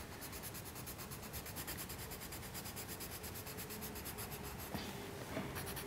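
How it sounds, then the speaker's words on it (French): An orange colouring pencil is pressed hard and rubbed across paper in quick, steady back-and-forth strokes, close and continuous, filling in a drawing of a Guignol puppet theatre. "je vais prendre un crayon orange pour colorier le pull de niafron."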